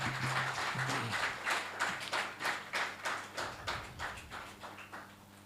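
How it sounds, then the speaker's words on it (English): Audience applause at an international transdisciplinary academic conference in a hall, a steady close patter of many hands clapping that gradually thins out over several seconds, with a brief low hum early on. "Give a big round of applause."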